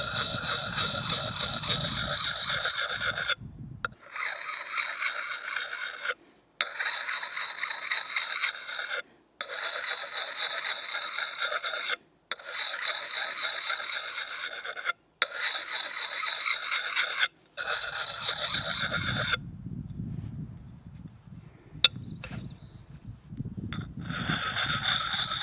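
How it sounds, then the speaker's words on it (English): A hatchet blade being sharpened by hand with a puck sharpening stone worked in small circles, giving repeated rasping, gritty strokes in bursts separated by brief pauses, close and steady. "when you're sharpening a hatchet or an axe, you're going to bring the stone to the blade"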